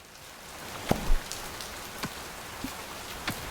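Rain in the survival game Oceaneers falls as a soft steady patter, with a few louder, sharper drops landing close by and no talk.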